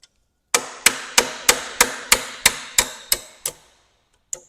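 Ten sharp metal strikes in a steady rhythm as a 1/4-inch bolt is hammered to drive a roll pin out of a Farmall 806 tractor part, each ringing briefly, followed by a pause and one lighter final tap.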